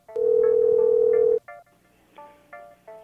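A telephone call rings out on the line as one long steady electronic tone, followed by several shorter, fainter tones, with no talking.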